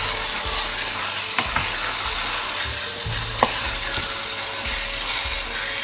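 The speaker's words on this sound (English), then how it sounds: "And then I'll stir all that in." Seasoning is stirred into a simmering pot of egusi soup with stockfish and bitter leaf, a steady close bubbling sizzle punctuated by a few scraping knocks of the spoon against the pot, with no talking.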